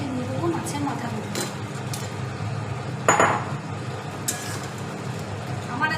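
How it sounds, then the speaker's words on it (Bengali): Fish heads going into a pan of cooked-down spice paste for a dal, with clattering utensil knocks and a sharp metallic clink partway, over low background noise. "এবার এর মধ্যে দিয়ে দেবো মাছের মাথাগুলো।"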